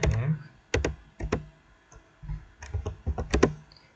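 Keystrokes on a computer keyboard as a terminal command is entered, a series of distinct close clicks and taps in short irregular clusters, with quiet gaps between them and no talking.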